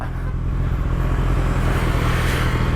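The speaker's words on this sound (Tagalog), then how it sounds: "traffic na nga." Steady road traffic rumble surrounds a rider on a Kawasaki ZX14R big bike in daily city traffic, with a continuous low engine drone and vehicle noise, loud and close throughout.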